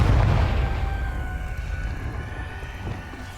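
Confringo fire spell exploding in the Hogwarts Legacy game, a single loud deep boom at the start that decays into a long rumbling roar and crackle fading over a few seconds.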